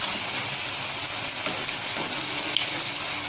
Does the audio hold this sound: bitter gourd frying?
yes